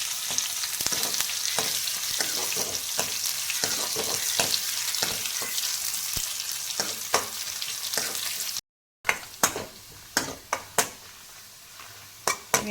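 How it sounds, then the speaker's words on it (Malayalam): Shallots, dried red chillies and curry leaves fry with mustard seeds in hot oil for a tomato curry: a steady close sizzle with clicks of a stirring spoon against the pan, then sharper separate taps after a brief gap. "അതിലേക്ക് ചെറിയ ഉള്ളി അരിഞ്ഞത്, വറ്റൽമുളക്, കറിവേപ്പില ഇങ്ങനെ ഒരു ബ്രൗൺ കളർ ആകുന്നത് നമുക്ക് ഇളക്കി."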